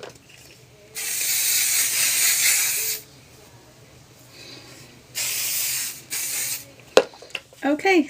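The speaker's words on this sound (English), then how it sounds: "Let me put a little bit of hairspray." Hairspray from an aerosol can hisses in two bursts of about two seconds each, separated by a pause, followed by a few light clicks and rustles close by.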